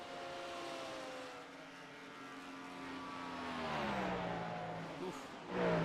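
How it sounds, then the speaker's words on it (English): Cadillac GTP prototype race car in the iRacing sim screaming down the front straightaway, a sustained high engine note that climbs steadily, with a commentator speaking over it and a louder burst near the end. "It's Cadillac GTD, or GTP I should say. Absolutely phenomenal sound. Just listen to it down the front straightaway."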